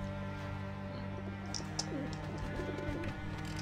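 Birds coo and chirp faintly in the video game Alice: Madness Returns, scattered calls sitting over a steady low game ambience with a constant hum.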